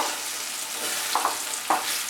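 Pumpkin pieces frying with a little turmeric and salt in a wok: a steady, bright hiss of hot oil up close, with two brief clinks of a spatula near the end.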